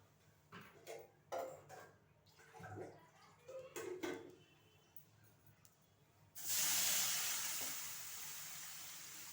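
Pots and utensils clink in a kitchen, then water pours into a pan on the stove with a steady, loud rushing hiss that lasts several seconds, ready for steaming Vinayaka Chavithi undrallu.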